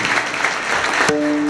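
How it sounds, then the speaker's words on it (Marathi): Audience applause at a kirtan, a dense burst of clapping from a crowd lasting about a second before a sustained musical tone takes over. "आमच्या दादा करता जोरदार टाळ्या वाजवून दादा करता."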